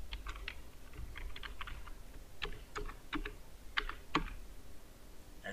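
A password is typed on a computer keyboard, with quiet, close key clicks coming in irregular short bursts and pauses, no voices.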